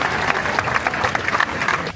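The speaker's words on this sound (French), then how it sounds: "On peut les applaudir bien fort" A crowd at the Ironman Nice triathlon applauds new finishers, with steady, dense clapping close by and a faint murmur of voices mixed in.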